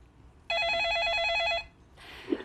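A telephone rings once in a studio for a viewer call-in to a Korean stock-advice broadcast, a single loud warbling electronic trill of about a second, followed by quiet room tone and a faint brief noise.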